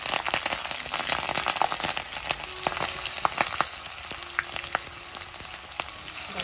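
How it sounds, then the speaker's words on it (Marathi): Cumin seeds and green chillies dropped into very hot oil for a methi zunka crackle and pop sharply up close over a steady sizzle, with scattered bursts that thin out toward the end. "तेल जास्त तापले त्याच्यामुळे 2 सेकंदामध्येच आपल्या मिरच्या छान अशा कडकडल्या"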